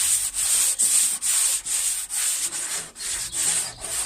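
Hand sanding on a Peugeot 206 bonnet, a steady close scratchy rasp in even back-and-forth strokes, each pass broken by a short pause, with no voices.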